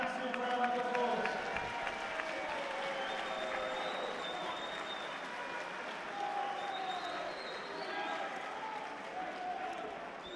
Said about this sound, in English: Please give these two warriors a massive round of applause.